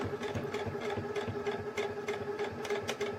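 A sewing machine back-stitching a custom pillowcase, running in a fast, even mechanical whir with rapid repeating needle clatter, steady and fairly quiet with no voices.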